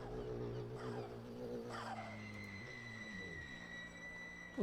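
A touring car in the RaceRoom (R3E) racing game, racing in a WTCR league round at Zandvoort, gives off a sustained high brake squeal that slides in pitch over a droning engine.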